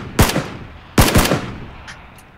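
Two loud gunshot bursts in a shooter video game, each a sharp blast with quick echoing follow-up shots about a second apart, then fading tails.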